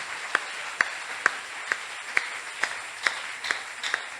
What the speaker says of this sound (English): Oh, you want to clap those hands.